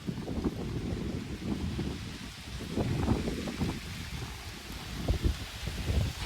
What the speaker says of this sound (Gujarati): એટલો બધો પવન આવે છે, બોલો.